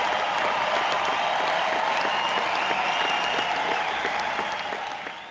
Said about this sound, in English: let me give you your hand claps